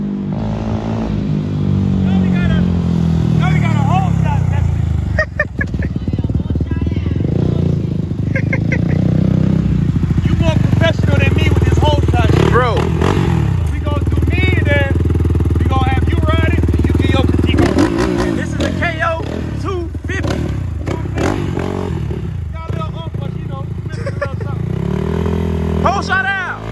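A 2021 Kayo K6 250 four-stroke dirt bike engine runs loud and close for the whole stretch, revving up and down with clattering mechanical noise, while people talk over it.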